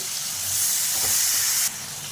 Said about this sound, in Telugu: ఇప్పుడు టమోటాలు వేసేస్తున్నాం